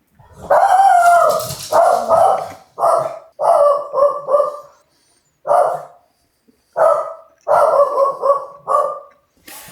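A pet dog barks and whines repeatedly up close, in short separate yelps and longer howling cries with brief pauses between them.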